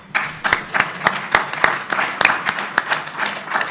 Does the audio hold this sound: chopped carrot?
no